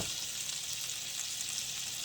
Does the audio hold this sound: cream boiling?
yes